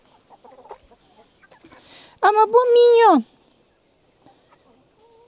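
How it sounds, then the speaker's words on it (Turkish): Quiet talking and rustling in a garden, then a loud, drawn-out rooster-like squawk from a young chicken close by for about a second before things go quiet again. "Herhalde tavuk bu."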